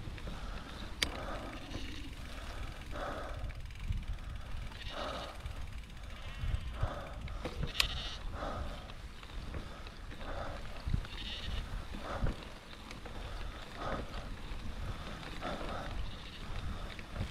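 Sheep bleat repeatedly over a steady mechanical rattle and rumble, the calls coming every second or so and blending together like a flock nearby.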